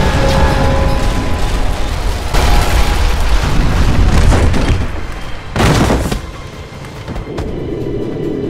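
An explosion in Call of Duty Modern Warfare booms loud and sustained, a roaring rumbling blast with a second sharp burst midway before the noise thins into debris and lingering rumble.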